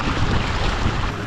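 A bass fishing boat cruising across open water below full throttle at about 5.8, giving a steady, loud rush of engine, wind and water with no break.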